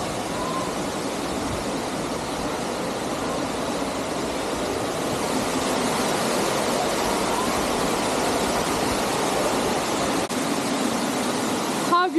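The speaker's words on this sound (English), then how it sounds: "It's not raining. It's just the waterfall up there." A waterfall in the Los Tilos forest on La Palma roars as a steady, broad rushing wash of water, constant and full for the whole stretch with no pauses.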